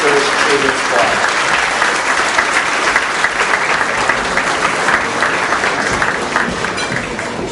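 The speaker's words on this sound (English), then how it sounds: "give them a warm round of applause for St Lazarus Church Children's Choir" A large audience claps warmly for a children's church choir at a Metropolitanate Day celebration in 2011, dense steady applause sustained throughout, close and loud, with crowd murmur beneath.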